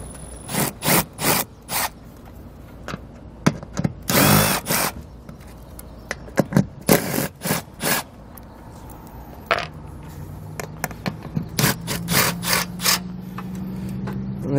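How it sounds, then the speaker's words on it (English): A power tool removes the four bolts from a Lippert Solera standard flat awning support arm on a 2017 Forest River RV, running in short repeated bursts with pauses and clicks between them, fairly close and loud. "We'll go ahead and pull all 4 of those out."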